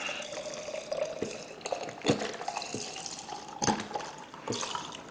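Vodka poured from a 1.75-liter bottle into a pre-marked mason jar up to the 12-ounce line for homemade vanilla extract, a steady close liquid stream with a few glugs and clinks, no talking.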